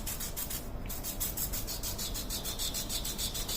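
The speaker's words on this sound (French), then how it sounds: "je gratte l'estompe." A dirty pastel blending stump is scraped clean in quick, regular rasping strokes, close and fairly quiet, with a dry, papery scratch repeating about four times a second and no talking.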